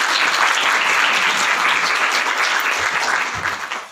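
An audience at a university orientation day in Karachi claps loudly and continuously, a dense wash of applause that tapers off slightly at the end.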